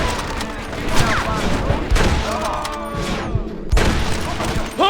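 Gunfire in Red Dead Redemption: a dense fusillade of shots and booms crackles continuously over several seconds, loud and close, with shouted voices mixed in.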